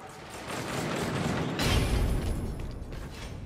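A creaking door mechanism in Warhammer: Vermintide 2 grinds and rattles open, swelling partway through into a heavier rumbling clank, with no speech.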